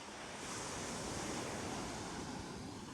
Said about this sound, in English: the waves are so big, giant waves